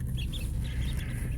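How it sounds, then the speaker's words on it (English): Crested runner ducklings peep in quick, high, overlapping chirps over a low background rumble, close by and fairly loud, with no talking. "Runner ducks. Crested runner ducks."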